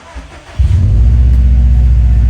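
Subaru WRX STI Type RA engine firing up and settling into a loud, steady warm-up idle after a brief quiet start, close to the car with no talk.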